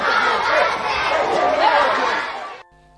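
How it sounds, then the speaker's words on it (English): A crowd at an Edo State gathering cheers and shouts loudly and continuously for about two and a half seconds, then cuts off abruptly to near silence. "Make we clap for Governor Godwin Obaseki"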